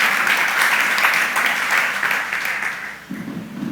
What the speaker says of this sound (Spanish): apláudale bien si va a aplaudir